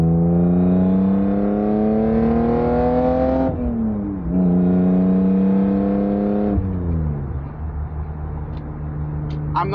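A BMW E36 with a Remus exhaust pulls at half throttle, its loud droning engine note climbing steadily through the gears with dips at each shift, heard from inside the car.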